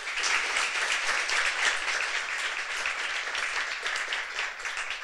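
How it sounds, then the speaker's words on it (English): An audience applauds at a students' finance panel, a dense, steady wash of many hands clapping together that fills the room and holds without break. "and equally big applause for the Croatian National Bank"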